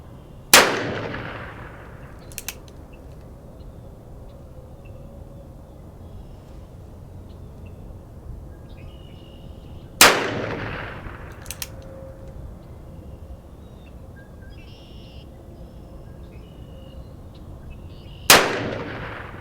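Three separate shots from a Ruger Vaquero revolver ring out about ten seconds apart, each a sharp, loud crack followed by a short rolling echo, with quiet outdoor background between them.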